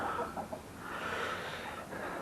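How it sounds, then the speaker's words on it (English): A lone hen clucks softly and intermittently as she explores a newly built chicken coop in the morning, faint and somewhat distant against a steady background hiss. "And there's the lonely chicken this morning. She's checking out the new digs."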